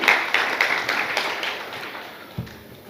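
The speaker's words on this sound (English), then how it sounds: "A big round of applause all the teachers for you who is sitting beside you" An audience at an education event applauds the teachers, a moderate, fairly dense patter of clapping that gradually thins and fades, heard at some distance in a large hall.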